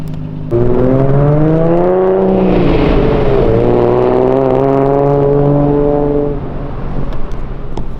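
Nissan Skyline R34 driving past on the road, its engine rising in a loud, smooth, rising-and-falling howl with clear shifting tones as it approaches and passes close by, then fading away.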